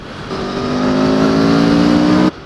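An Aprilia Tuono V4 1100 Factory motorcycle from 2019 revving its V4 engine, a loud, close, steady rising drone held for about two seconds before cutting off sharply.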